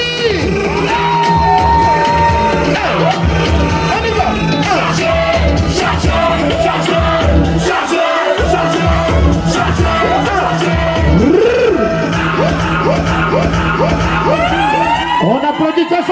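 A dense, loud party crowd at a twins' birthday celebration in Lyon cheers and yells without pause, mixed with music, horn-like blasts and shouting voices.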